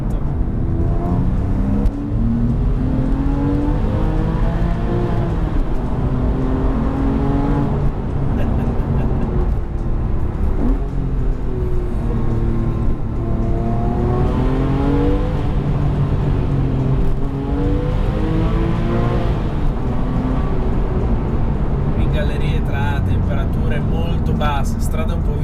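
A Porsche 997 Carrera 4S drives on a slightly slippery road, its engine note rising and falling through repeated accelerations, heard from inside as a steady loud drone with wind and road noise.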